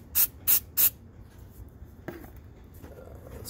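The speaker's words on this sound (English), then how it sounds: "We're gonna spray that on real quick" Three quick, loud bursts of mass airflow sensor cleaner sprayed from an aerosol can onto a truck's airflow sensor, each a sharp hiss, followed by faint handling noises and a light click.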